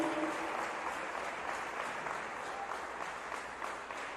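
A church congregation gives loud applause during a Spanish-language sermon: dense, sustained clapping from many hands, steady throughout and slightly tapering toward the end, with no clear speech over it.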